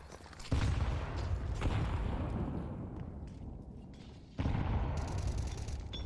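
Gunfire in Counter-Strike 2 comes as two loud, abrupt blasts, each followed by a rumbling, slowly decaying tail, with no talking over them.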